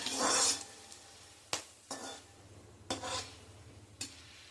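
Spices and coconut being fried in a pan for an onion-garlic masala, with quiet sizzling and a few sharp clinks of a spoon stirring against the pan.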